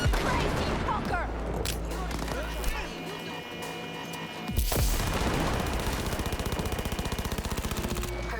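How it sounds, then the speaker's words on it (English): Gunfire in Cyberpunk 2077 erupts as dense bursts of rapid automatic shots alongside booms, with a fast rattling volley toward the end, all layered with game music and voices. "Heard shots."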